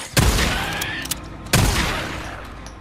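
Two heavy shotgun blasts in the video game Days Gone, each a sharp loud boom with a lingering tail, spaced about a second and a half apart.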